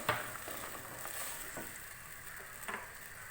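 Ground fried onion being stirred into mutton paya frying in a pot, a steady low sizzle with soft scraping stir strokes and a few light clinks, fairly quiet and continuous.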